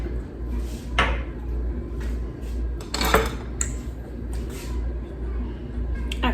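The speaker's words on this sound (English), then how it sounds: "you just wanna stir it around a little bit and heat it up" Garlic and oil stirred in a pan: close metallic scraping and clinking of a utensil against cookware in irregular strokes, with a low kitchen background.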